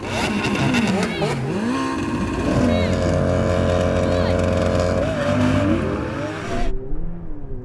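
High-revving engines of a Ferrari 488 Pista, McLaren 720S and Lamborghini Aventador SV drag racing roar through rising and falling gear changes, loud and close, cutting off abruptly at the end.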